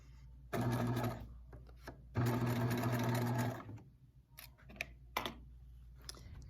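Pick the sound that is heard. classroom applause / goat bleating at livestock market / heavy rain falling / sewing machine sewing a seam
sewing machine sewing a seam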